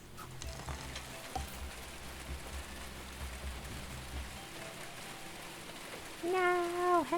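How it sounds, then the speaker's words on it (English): A hailstorm in the hospital-management game Two Point Hospital makes a steady, dense patter of ice striking surfaces, a continuous rushing hiss with faint clicks, joined near the end by a brief wavering tone. "Uh-oh, hailstorm's coming."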